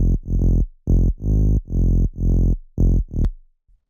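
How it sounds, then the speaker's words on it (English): A tech house main bass synth from Serum, unfiltered, plays short punchy distorted notes in a choppy rhythm, about eight hits over a few seconds, loud and close, alone. "So normally the main bass sounds like this."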